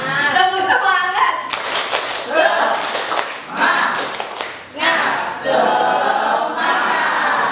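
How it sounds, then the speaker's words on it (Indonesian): Teachers in a workshop hall clap a rhythmic spirit clap in bursts, loud and close, a crowd of hands patting together amid room chatter. "Boleh tepuk semangat lagi sekali lagi?"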